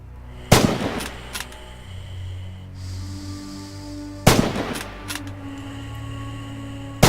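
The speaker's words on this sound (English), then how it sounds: "Practice dialing in the range and fire on the targets downrange." Rifle shots fired at downrange targets in the Rising Storm shooter game: two sharp, loud cracks several seconds apart with a third at the very end, each followed by a short echoing tail over a low ambient hum.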